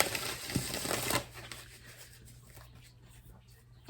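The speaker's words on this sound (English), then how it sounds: "as I'm shuffling these cards" Tarot cards being shuffled close by, a brisk papery riffle in the first second followed by quieter soft handling of the deck over a low steady hum.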